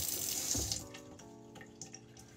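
Tap water runs steadily into a sink during a surgical hand scrub, a continuous close splashing wash with a brief louder gush near the start and no talk.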